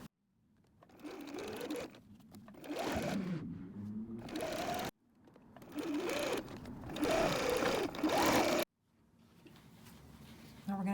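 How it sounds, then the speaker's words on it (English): A sewing machine stitches across a madras cotton tote seam in three sustained runs of steady whirring, each rising in pace and ending in a short pause, close and clear with no talk. "going to sew across that line."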